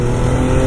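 An MV Agusta F3 motorcycle on a cold winter morning ride holds a loud, steady engine drone at close range with no pause, lasting less than a second.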